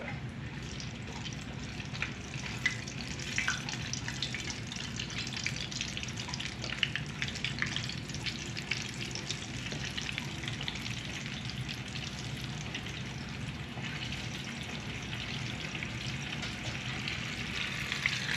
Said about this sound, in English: Throw it in the fryer.